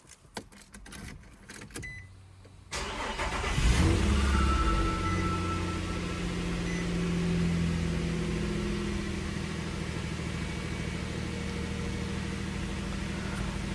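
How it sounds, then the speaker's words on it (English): A 2010 Nissan Frontier is started with the ignition key: a few faint clicks, then a brief crank as the engine catches and settles into a steady, close idle hum. "take the key, insert it into the ignition, turn the engine on"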